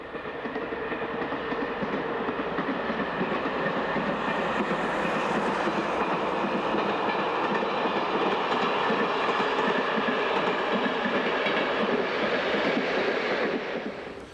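A train rolls steadily along a scenic railway line in Portugal, a loud continuous rumble with rhythmic wheel clatter and a faint metallic whine throughout.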